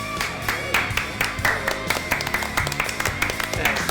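Audience applause at a live show, with distinct clap hits landing in a loose, uneven rhythm, moderately loud and close, alongside some voices talking over it.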